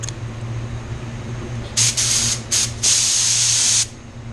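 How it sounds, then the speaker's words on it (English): A spray gun applies tinted clear coat over a Mazda Soul Red Crystal base coat, hissing in several short bursts and then one longer sustained pass over a steady low background hum. "I'm gonna have to put the tinted clear under."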